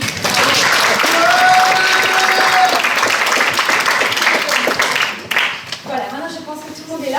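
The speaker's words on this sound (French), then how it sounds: "On les applaudit." Loud, dense applause from a show audience for an opening act, sustained for several seconds with voices and a few whoops mixed in, then thinning out as scattered claps and murmuring chatter take over near the end.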